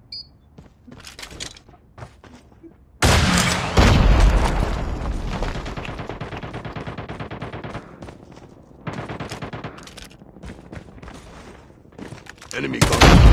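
Call of Duty Mobile gunfight round: loud bursts of automatic gunfire and booming shots, close and sustained for several seconds with short gaps, with a few fainter pops before and after.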